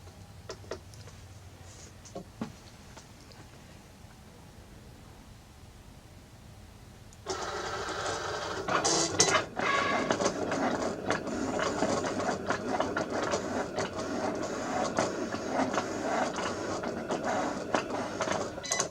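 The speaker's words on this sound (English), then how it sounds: "I'm going to press that and it's going to start cutting." A Cricut cutting machine slices through window cling, starting about halfway in with a steady, busy whir and rapid mechanical ticking that continues to the end after a quiet stretch.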